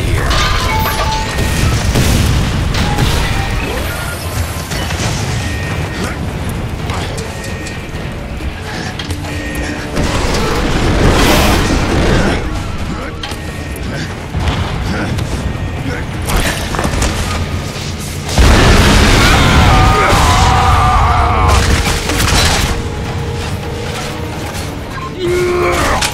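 Explosions and crashing blasts from the video game Bulletstorm, set around gravity core generators, boom repeatedly amid mechanical clatter and game noise. Loud bursts recur throughout, with talk over parts of it.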